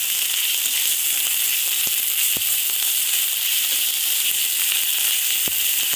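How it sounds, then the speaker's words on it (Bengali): Ginger paste fries in hot oil with a steady, dense sizzle and hiss throughout, close and fairly loud, with a few faint clicks of stirring and no talking. "আদাটা প্রায় ভাজা হয়ে এসছে,"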